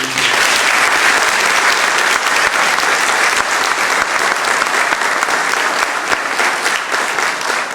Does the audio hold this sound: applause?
yes